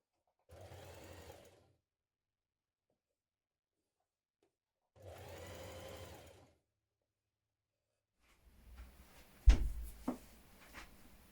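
A sewing machine double-fold hems lightweight trouser fabric in two short stitching bursts with quiet pauses between, followed by a few clacks and knocks of handling.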